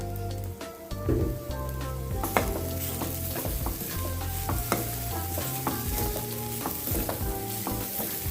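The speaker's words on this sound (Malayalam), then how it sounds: "കുറച്ച് വെളിച്ചെണ്ണ ഒഴിച്ചു കൊടുക്കാം" Coconut oil pours into a hot pan and sizzles loudly and close, a dense steady crackle with scattered pops and some metallic clatter from the pan, no talk.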